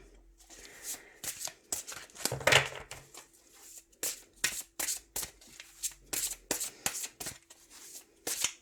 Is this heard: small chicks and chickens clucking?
no